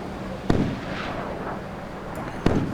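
SM-1 surface-to-air missiles firing and being shot down in the Sea Power naval combat game: two sharp explosive bangs about two seconds apart over a low rumbling background, with no talking.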